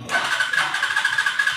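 A Cafe Racer 152 motorcycle's starter cranks the engine in a steady whirring run with rapid rhythmic pulses, close and fairly loud, no voices over it.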